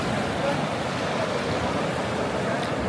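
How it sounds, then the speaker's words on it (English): Sea waves washing onto the shore on a Spanish coast, a continuous close rushing surf sound that stays steady throughout. "There's something about the sound of the sea, isn't there?"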